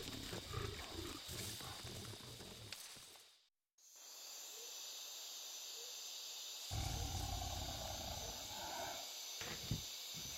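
A wild tiger at night near a camera setup gives low, rumbling growls and breathy hisses amid steady nighttime ambient noise, with a brief dropout partway through.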